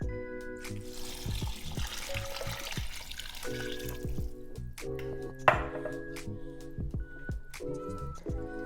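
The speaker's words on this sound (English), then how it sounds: "I'm just gonna do a combination of the beef bouillon and some water." Water poured into a pot with beef bouillon while cooking taco soup, trickling and splashing steadily over several seconds amid kitchen clatter, with a louder knock partway through.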